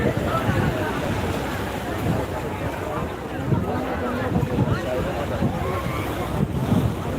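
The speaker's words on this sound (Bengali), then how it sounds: "উত্তাল রয়েছে সমুদ্র" Rough sea waves at Digha beach in the morning, a loud continuous roar and wash of surf mixed with gusting wind noise on the microphone, with a person talking over it.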